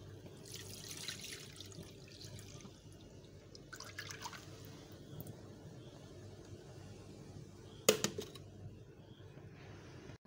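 Blended caramel custard mixture pours through a strainer, a soft continuous liquid trickle and dripping at a steady low level, with one brief sharper clink near the end.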